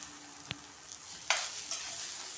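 Tomatoes drop into a pan where curry leaves are frying, giving a sudden sizzling hiss that swells and then settles into steady frying, with a few faint clinks of stirring nearby and no talking.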